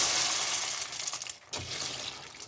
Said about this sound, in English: So now we're going to add the pasta